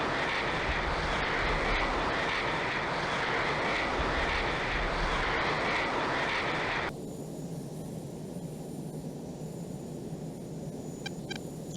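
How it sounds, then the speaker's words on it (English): A Su-35 jet taking off in the combat flight simulator Falcon 4 Allied Force, a loud continuous engine roar and rumble that drops abruptly to a quieter, thinner whine partway through, no speech. "Okay, Su35 took off."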